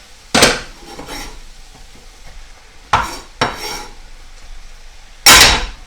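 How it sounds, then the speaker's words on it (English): A utensil clanks and scrapes against a pot while tuna casserole ingredients with onions and peas are stirred, a handful of sharp metallic knocks spaced apart with quieter scraping between them. "Give it a little stir."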